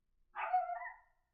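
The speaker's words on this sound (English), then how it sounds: "That's my dog." A single dog bark, one short clear bow-wow at moderate distance, alone with no voices.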